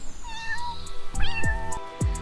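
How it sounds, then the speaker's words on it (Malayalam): Kitten meowing in a few high, rising-and-falling cries close by, one following another in quick succession over a soft background hum. "നല്ല അനുസരണയുള്ള പൂച്ചക്കുഞ്ഞനായിരുന്നു ചെമ്പൻ."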